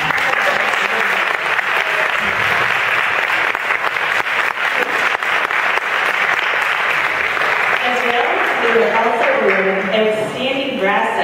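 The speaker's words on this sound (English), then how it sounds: "so we should just applaud them." Sustained, loud audience applause for a school concert band after a gold-award festival performance, a thick continuous wash of clapping in a hall with a voice speaking over the later part.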